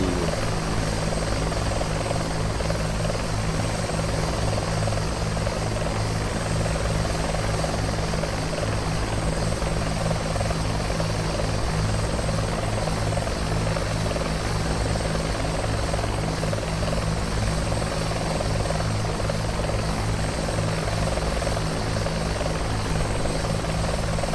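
A simulated Bell 412 helicopter on approach and landing in X-Plane 11 makes a loud, unbroken rotor and turbine drone that holds steady throughout, with no voices.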